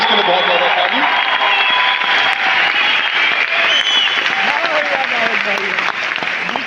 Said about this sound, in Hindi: इसलिए ब्रॉन्ज डायरेक्टर्स के लिए बहुत ज्यादा ताली